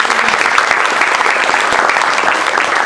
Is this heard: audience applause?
yes